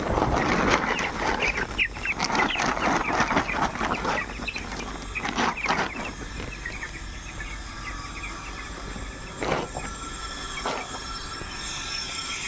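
A flock of ten twelve-day-old poultry chickens cluck and peep continuously, close and fairly loud, with scattered sharper calls and some rustling.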